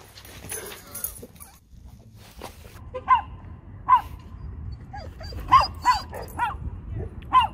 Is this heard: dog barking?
yes